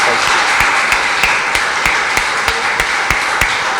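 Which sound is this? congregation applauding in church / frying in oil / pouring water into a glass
congregation applauding in church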